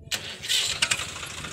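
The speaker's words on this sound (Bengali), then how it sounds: "এবার ট্র্যাক্টর স্টার্ট দেবে।" A tractor engine cranks and fires up on a muddy rural field track, with a sharp starting burst followed by a rough, loud running rumble close by.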